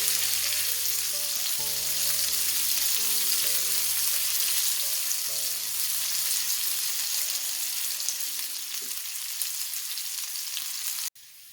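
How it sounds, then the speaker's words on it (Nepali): A small onion fries in a pan for a mushroom curry, giving a steady close sizzle that runs unbroken for about eleven seconds under faint background music, then cuts off abruptly. "अब प्याजलाई केही बेर फ्राई गरौँ।"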